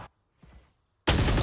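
Video game gunfire in an esports match: a brief shot, a short quiet gap with faint sounds, then a sudden loud burst of sustained fire.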